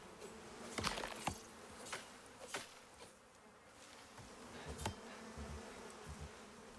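Bees buzzing around a beehive in the video game Icarus, a faint steady drone with a few sharper passes and buzzes drifting close, no talking.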